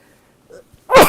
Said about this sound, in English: That sneeze has been a long time coming.